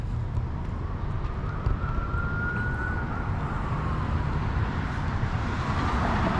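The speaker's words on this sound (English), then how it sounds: "I hear sirens." Emergency vehicle sirens wailing in a street during an autumn walk in Kingsport, Tennessee, a steady rising-and-falling tone sitting fairly distant over constant traffic and outdoor rumble.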